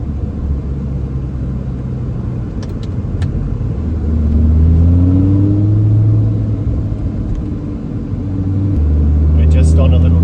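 An Audi R8 drives on twisty mountain roads, a loud, close engine drone whose pitch rises and falls with gear changes and acceleration.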